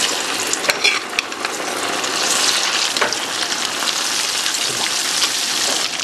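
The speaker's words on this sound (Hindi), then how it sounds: "अब अरबी को हम फ्राई करेंगे।" Taro root (arbi) pieces fry in hot oil with a dense, steady sizzle that holds throughout, close up and fairly loud, with a few sharper pops early on and no voices.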